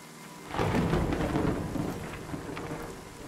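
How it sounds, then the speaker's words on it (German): A thunderstorm with steady rain falling and rolling thunder that starts suddenly and rumbles on, loud and close, with no voices. "das Gewitter ist aber real."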